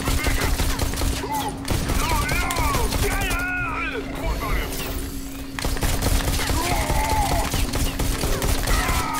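Gunfire in the VR shooter Bullet Train rattles in dense bursts throughout, mixed with game effects and a voice talking over the shooting.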